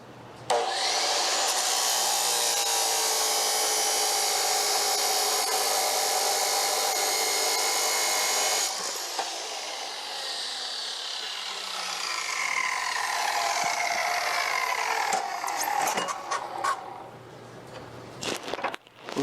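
A chop saw is switched on and runs with a loud, steady whine for several seconds. It then winds down and the tone shifts, followed by scattered clatter and handling noises near the end.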